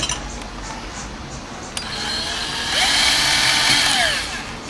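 A drill bit grinding through powder coating on a bicycle frame for a zerk fitting, a steady close whine that rises louder midway with a harsher scraping edge, then eases.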